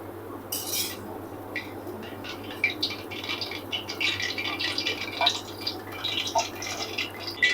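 Fried phulki, small gram-flour dumplings, dropped straight from hot oil into a bowl of plain water give scattered small plops and splashes at irregular intervals, close by and fairly soft.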